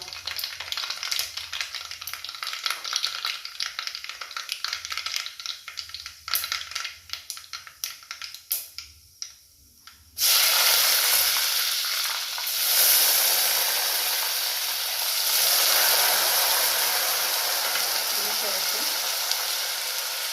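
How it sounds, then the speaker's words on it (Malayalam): Mustard seeds crackle and pop sharply in hot oil, then a sudden loud, steady sizzle takes over as dried red chillies and curry leaves hit the pan and keep frying. "കടുക് പൊട്ടി വന്നാൽ കുറച്ച് വറ്റൽമുളകും കറിവേപ്പിലയും ഇട്ട് കൊടുക്കുക"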